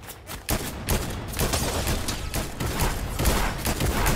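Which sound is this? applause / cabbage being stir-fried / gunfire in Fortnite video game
gunfire in Fortnite video game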